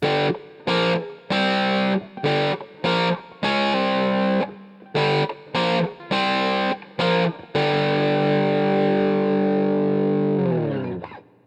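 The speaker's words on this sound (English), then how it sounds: "plucking the strings, and it gives it a percussive, staccato-ish kind of sound" Distorted electric guitar plucks a main riff in short, percussive staccato bursts separated by gaps, ending in a long sustained chord that fades out.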